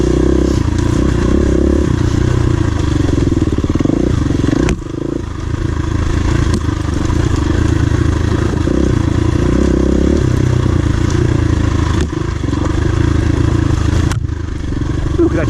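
A KTM 350 EXC-F dirt bike rides a wooded trail loop with a loud, continuous engine drone close by, mixed with constant rattling, clattering and scraping.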